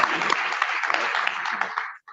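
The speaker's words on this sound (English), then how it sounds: "let's give her a round of applause" An audience at an Edo Language Day celebration applauds a ministry official, a brief burst of steady clapping that cuts off abruptly.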